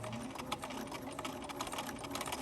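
Sewing machine stitching a straight line across a fabric owl, heard as a steady rapid mechanical whir with fine rhythmic clatter, close and continuous, with no talking.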